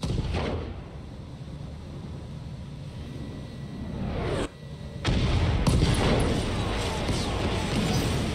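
Heavy weapons fire rumbles through a BattleTech mech battle, a dense continuous barrage of booms and blasts that briefly drops out, then returns louder and fuller under faint game voices.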